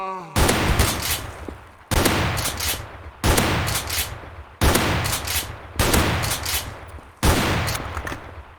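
Shotgun fire in a shooting video game, six loud close blasts spaced roughly every one to one and a half seconds, each trailing into a long decaying echo.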